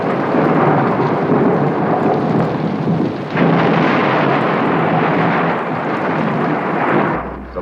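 A loud thunderstorm with heavy rain roars continuously and close, with a sharper thunder crack partway through and rumbling that fades near the end.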